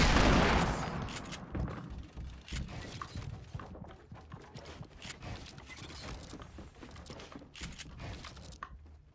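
Fortnite gunfire between players crackles in dense, irregular bursts of sharp shots, loud at the start and continuing as a steady exchange of rapid cracks throughout.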